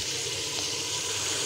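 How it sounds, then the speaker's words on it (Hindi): Half a litre of water pours into masala frying in a pan, giving a steady broadband hiss and sizzle that holds evenly at moderate loudness from start to finish. "अब इसमें शामिल करेंगे आधा लीटर पानी"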